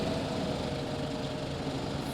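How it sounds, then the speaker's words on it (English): A large Massey Ferguson farm tractor engine idling: a steady, dense low rumble with an even vibration that holds for the full stretch, close and unbroken, with no voices. "I myself will use our bigger Massey Ferguson tractor"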